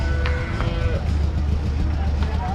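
Native cattle at a farm sale where cows are traded, with a few short distant lowing calls over a steady rumbling outdoor background.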